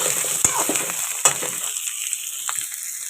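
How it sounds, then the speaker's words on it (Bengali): Ground cumin, ginger, chili and garlic paste are sautéed with potatoes in a pan, giving a steady sizzle broken by a few sharp stirring scrapes and clatters near the start and middle. "এখন মশলা দিয়ে দিলাম, তার সাথে আলুগুলো একেবারে দিয়ে কষিয়ে নিচ্ছি।"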